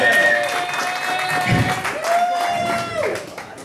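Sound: audience cheering and applauding for the new lead guitarist

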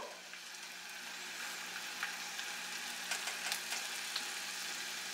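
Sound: sausage and egg omelette sizzling in a pan

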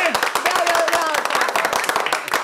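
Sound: applause for Charito, the cook

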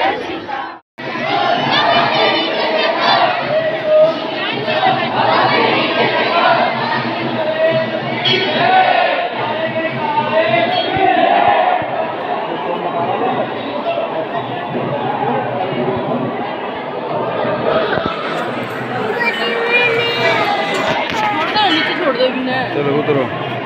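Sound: large crowd of devotees at Khatu Shyam temple on Dwadashi

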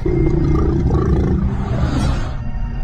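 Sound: growling

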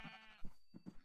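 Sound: sheep bleating in the video game Minecraft

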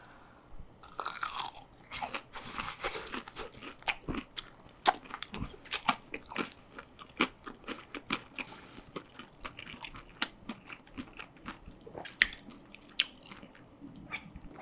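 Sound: crunchy Blue Takis chips being bitten and chewed

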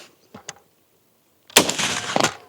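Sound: gunshot

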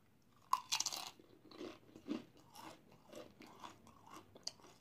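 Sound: crunching Doritos Flamin' Hot Nacho chips

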